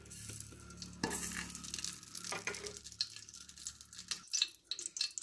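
Ghee goes into a hot pressure cooker for gajar halwa, giving a close sizzle with scraping and stirring noises that fade into quieter crackles.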